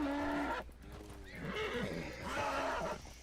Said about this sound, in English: I need to break this horse.